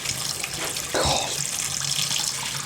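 Hot water running from a tap while cleaning out a dirty, cheap Beko washing machine, a steady broadband rush with a louder gush near the middle, no talk over it.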